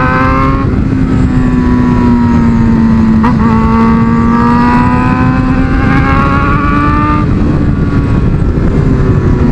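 A motorcycle is ridden with a loud, constant engine drone and rising, shifting pitch, accompanied by heavy wind rush close to the mic and a brief dip around a gear change, with no voices audible.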